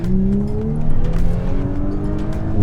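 An Audi S5 accelerates hard, its engine note climbing steadily in pitch as it revs, loud and close with a throaty exhaust drone throughout.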